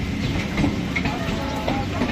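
A local train at Krishnanagar station gives off a steady loud rumble and rattle of railcars, close and continuous with faint squeals.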